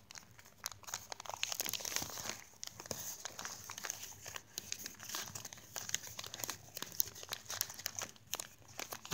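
Paper being folded and creased by hand into a five-pointed origami ninja star, producing close, steady crinkling and sharp creasing rustles throughout without speech.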